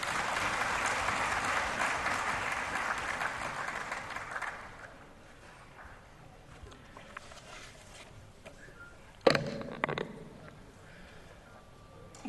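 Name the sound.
audience applause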